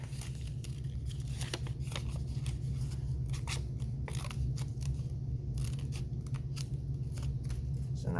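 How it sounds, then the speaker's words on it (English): Scissors cut through folded paper to make triangles, producing a quick run of crisp, close snips and crunches over a constant low background hum, with no talking. "I might cut out a few triangles"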